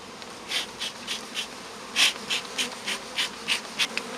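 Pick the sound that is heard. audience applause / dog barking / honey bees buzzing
honey bees buzzing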